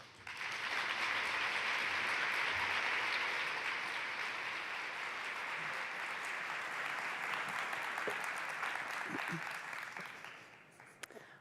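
An audience applauds to welcome lecturer Dr. Alison Murdoch: about ten seconds of dense, steady clapping from a crowd that swells quickly, holds evenly, then thins out and fades near the end.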